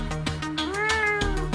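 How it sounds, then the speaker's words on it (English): A house cat lets out a single clear, rising-and-falling meow at close range, over light background noise and a few soft clicks. "Why is it the cat always gets in the videos?"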